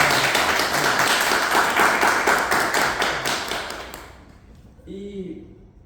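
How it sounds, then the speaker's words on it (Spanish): An audience at a book presentation claps together in steady applause that fades out, leaving a brief murmur of voices at the end. "Un aplauso para él"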